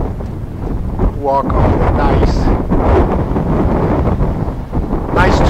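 Strong gusts buffet the microphone on a soft sandy trail along the Camino de Santiago toward Finisterre, a continuous rumbling roar with a person speaking briefly beneath it.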